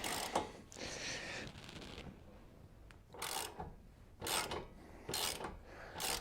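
A wrench working 19mm caliper bolts loose on a Nissan 240SX: several close, raspy ratcheting and scraping bursts with short quiet gaps between them, fairly faint overall.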